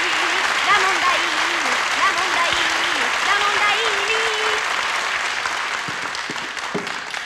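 A studio audience at a 1970s Italian TV variety show applauds continuously, a dense wash of clapping that fades slightly toward the end, with a voice and music-like tones sounding over it early on.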